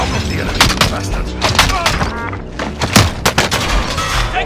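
Video game battle royale gunfire in Rebirth, with repeated sharp shots and thudding impacts in irregular clusters, loud and close, along with other game sounds.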